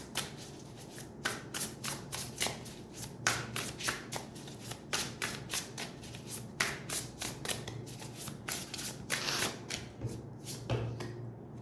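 A deck of tarot cards being shuffled by hand, with quick rhythmic riffling and soft slaps repeating steadily at close range, with no talking.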